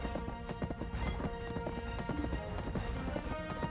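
Horse hooves clip-clop steadily in a video game, loud and close, with occasional whinnies over busy game music and effects.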